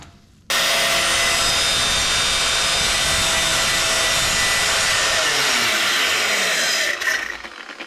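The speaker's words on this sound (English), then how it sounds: "I'm just gonna grab an angle grinder and cut it off." Angle grinder cutting off a crusty, rusted anti-roll bar on a Lexus IS200 Turbo, a sudden loud, harsh, continuous screech of the disc biting through metal for about six seconds before winding down.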